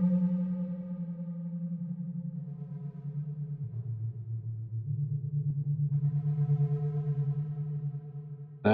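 A VCV Rack modular synthesizer bird-song patch rings out with resonant filter tones: sustained, pure pitched notes that step between pitches, heard alone and ending in a sudden sharp burst.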